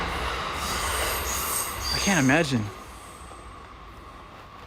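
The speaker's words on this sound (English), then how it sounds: "Can't imagine hearing train sounds all day" A train passing on railway tracks at night in Urawa, Saitama, Japan, with a loud rising and falling wheel squeal over steady rolling rumble, heard close by beside a street while a person speaks briefly.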